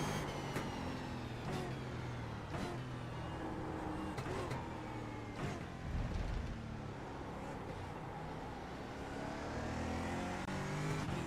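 A racing car in an iRacing sim lap hums and revs steadily at moderate volume, engine pitch sweeping up and down through gear changes, with a few sharp shift clicks and no talk.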